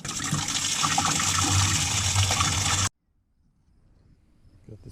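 Water gushes steadily over a sprayer strainer, a loud continuous rinsing rush that cuts off abruptly, leaving near silence with faint outdoor ambience.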